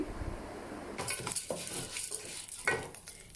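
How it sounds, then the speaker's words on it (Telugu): Fenugreek seeds roasting in a pan on medium flame, stirred with a spoon: light sizzle under repeated scraping and metallic clinks, close and fairly quiet. "కాస్త మీడియం ఫ్లేమ్లో పెట్టేసి కాస్త కలర్ చేంజ్ అయ్యేంత వరకు అంటే పచ్చిదనం పూర్తి పోయేంత వరకు ఇలాగా వేయించుకోండి"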